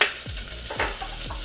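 Onions frying in hot oil for a sauce, a constant close sizzle broken by three low scraping stirs at a steady pace, no talk.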